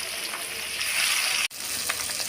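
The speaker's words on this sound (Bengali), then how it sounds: "এখন আমি সিলভার কাপ মাছটা সুন্দর করে ভেজে নেব।" Pieces of silver carp sizzle and spit in hot oil in a pan, a steady bright crackle that cuts out for an instant midway before resuming, with no talking.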